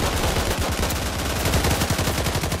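Machine gun fire in the World War II shooter Days of War, a dense, loud, continuous burst of rapid shots with no talking.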